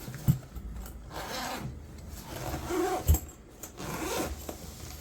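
A zipper runs along the side of a small Milwaukee tool travel pouch from the M12 2438-22X variable speed polisher/sander kit. Several close, raspy zip strokes come one after another, with light handling rustles between them.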